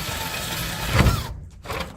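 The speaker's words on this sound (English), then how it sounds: "keeping the circles within the line of the place I need to cut out, and just kind of drill away." Power drill boring through about an inch of stucco on a garage wall, a gritty grinding whir that swells and then cuts off abruptly as the bit breaks through, close and alone.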